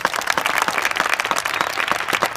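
Participants at a Jets youth football clinic give a round of applause, a dense, steady burst of many hands clapping close by for a couple of seconds.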